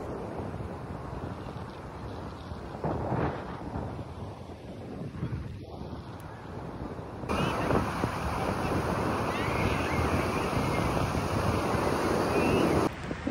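Ocean waves wash in at Radhanagar Beach on Havelock Island at sunset, a steady surf roar with wind buffeting the microphone throughout.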